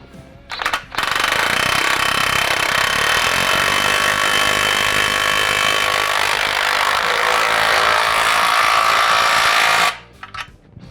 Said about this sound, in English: We're just gonna tighten up this torque clamp again with the nut facing out.